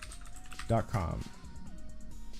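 Clicks of a computer keyboard as a web address is typed for a network ping test, a short run of keystrokes under a brief spoken phrase and a faint steady tone.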